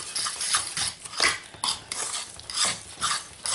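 A spoon clinks and scrapes repeatedly in a pot as ginger, cinnamon and celery flakes are stirred into chicken matzo ball soup, a rhythmic, fairly close series of metallic stirring sounds with no talking.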